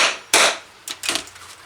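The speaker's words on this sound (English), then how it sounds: "to set those rivets. A couple of whacks with a hammer" A hammer strikes a rivet-setting tool to set rivets on a leather card holder, giving three or four sharp, close metallic whacks in quick succession.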